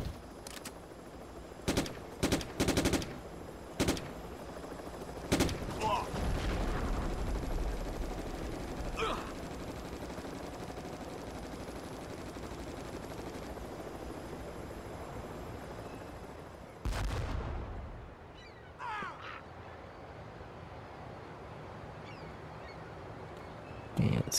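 Gunfire in the video game Hidden Target, including shots at propane cans: a spread of sharp separate bangs early on, with more scattered shots and a heavy burst later, over a steady low game rumble.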